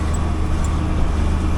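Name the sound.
old tractor downshifting while spreading fertilizer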